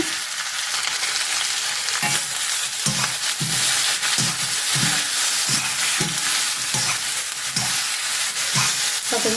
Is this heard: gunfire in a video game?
no